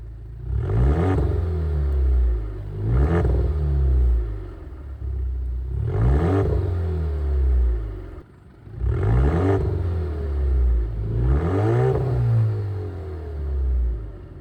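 A 2.0-litre Alfa Romeo Giulia's exhaust rises and falls through five repeated rev cycles, each a climbing engine note that drops back to a low rumble, loud and close with no talking.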